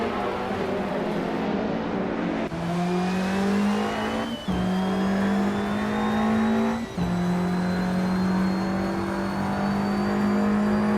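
A 2008 Audi TT's engine strains through a racing game lap, revving up in long rising pitches broken by three quick gear-change dips, loud and close with no talk over it.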